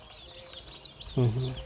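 Day-old Thai white Chee chicks, a white-feathered fighting-cock breed, give a short burst of clucking near the end of a quiet stretch, after thin high peeping calls.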